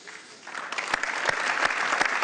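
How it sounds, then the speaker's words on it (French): Applause from the audience for event partners at a New Year greetings ceremony, starting light and swelling into dense, close clapping with sharp individual claps standing out. "Donc on peut applaudir tout le monde"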